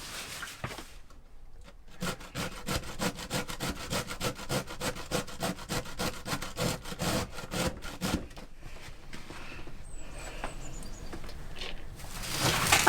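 Food grated by hand on a metal grater in a narrowboat galley kitchen, a fast run of rhythmic rasping strokes that stops, leaving a quieter scraping stretch before louder handling at the end.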